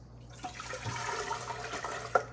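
Water pours steadily from a bottle into a jug for a lemon mint juice, a soft continuous splashing stream close by with a small clunk near the end.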